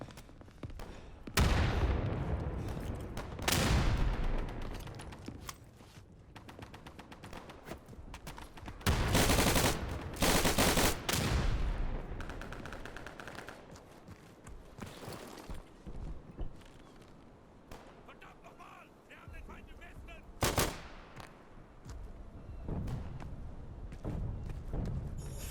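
Artillery and gunfire in the Day of Infamy Dunkirk update, a World War II shooter, come as loud booming bursts and volleys of shots at irregular intervals over a rumbling battlefield backdrop.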